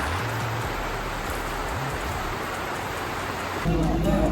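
Rain falls during a motorbike ride on the road beyond Pollachi toward Valparai, a dense, steady wash of noise with wind rush, and a muffled voice briefly sounds beneath it.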